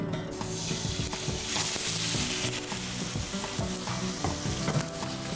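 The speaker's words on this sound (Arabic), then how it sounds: "يكون عندي الزيت ساخن، وبعدها نبدا نضيف الدجاج كمرحله اولى" Chicken pieces for Turkish shish tawook fry in hot oil in a pan, with a loud, continuous close sizzle and crackle and a faint scrape of stirring throughout.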